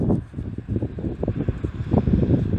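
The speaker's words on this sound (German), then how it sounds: "Es windet doch etwas." Gusty wind buffets a microphone outdoors near bridge construction along a future A14 motorway route, rumbling in uneven, close bursts and low thumps with no voices heard.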